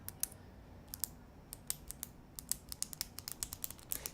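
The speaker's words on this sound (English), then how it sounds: "Samsung built in a clicking mechanism in the pen for getting it out" The spring-loaded S Pen of a Samsung Galaxy Note 5 is pushed in and out over and over, giving crisp, close clicks that start sparse and speed up into a busy, uneven clatter in a quiet room.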